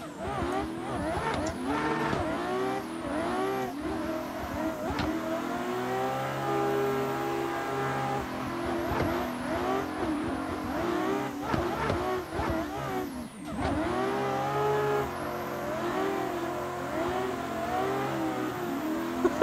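A BMW M4 G82 race car at Misano World Circuit in a racing video game, its engine revving hard and climbing through gears with rising whine and brief shift dips, steady and close, with someone talking faintly underneath.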